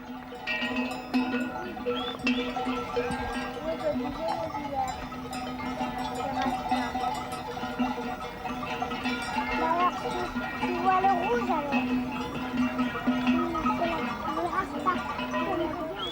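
Many sheep bleat together in a steady, overlapping chorus as herding dogs drive the flock in the mountains, with clanking bells throughout and a voice talking over them.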